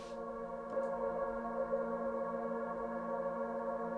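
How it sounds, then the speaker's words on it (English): A sampled atmospheric texture from Splice, a steady sustained pad of layered tones holding evenly in the background for the full length, with no voices. "It's just a texture that covers a bit of frequencies in the background."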